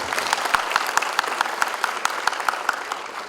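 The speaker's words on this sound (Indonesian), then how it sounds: "Tepuk tangan buat Pak Hermawan." Applause for Pak Hermawan from an audience at a marketing festival awards event, steady rhythmic clapping with sharp distinct claps, fairly close and moderately loud, with little talk.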